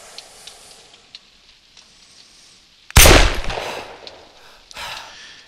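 Gunfire on a shooting range in Arma 3, aimed at steel targets: one loud, sharp shot near the middle with a long decaying tail, then a quieter second report about two seconds later, over a faint background hum.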